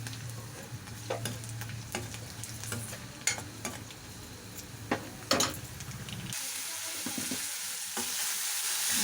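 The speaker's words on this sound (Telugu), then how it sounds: "వేసి కొద్దిసేపు వేయించాలి." Tempering spices, garlic, curry leaves and green chillies frying in a pan with a crackling sizzle, punctuated by sharp spatters and stirring scrapes, then a louder hissing surge near the end.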